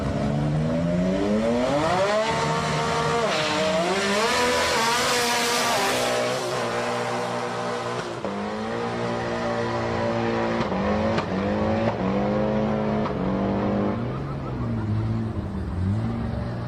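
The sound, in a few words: Mazda 20B Cosmo drag racing at Sendai Highland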